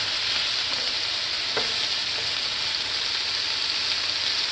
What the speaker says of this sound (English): We're going to let those cook down for several minutes.